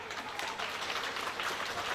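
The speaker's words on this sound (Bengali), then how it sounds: "হাততালি।" An audience at a primary school digital classroom inauguration applauds, a dense, steady wash of clapping from many hands at moderate distance.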